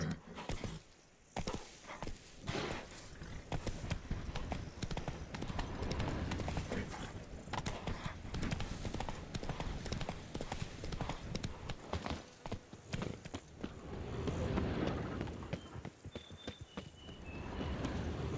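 Roach the horse gallops in Witcher 3 Blood and Wine, hooves beating a steady, fast rhythm at close range throughout, with brief whinny-like bits and occasional other game noises layered on top.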